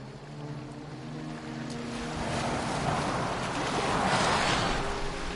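A boat sails across open water in Assassin's Creed Valhalla, with a steady rushing wash of water and wind that swells gradually louder, carried alone without talk.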